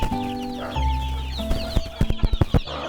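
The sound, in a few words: Sussex chicks and chickens chirping in a coop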